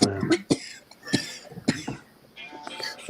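Several sharp coughs from a nearby person, spaced unevenly, with faint voices in the background.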